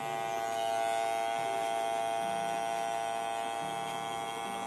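Electric hair clipper running at the temple with its lever closed, a steady close buzzing hum with a strong tonal whine that holds evenly throughout, no talking.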